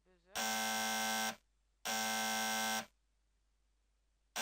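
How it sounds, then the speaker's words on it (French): Buzzer effect played from software: two loud, harsh electronic buzzes, each about a second long with a short gap between, followed by quiet. "Buzzer."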